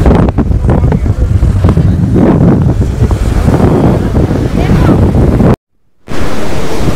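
Ocean waves wash in at Anjuna Beach, Goa, as a loud, close surf roar heavily buffeted by wind on the microphone, cutting out briefly before resuming.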